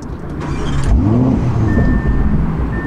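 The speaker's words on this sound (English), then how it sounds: "Let's go ahead and turn the car on so you guys can see firsthand exactly what it's like." A Lamborghini Urus engine fires up and settles into a loud, steady rumble with a brief rise in revs, close to the listener.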